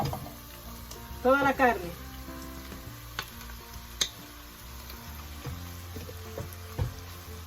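Shredded beef for Cuban ropa vieja sizzles in a pan, a soft steady fry with light stirring ticks and scrapes, and a voice speaks briefly near the start.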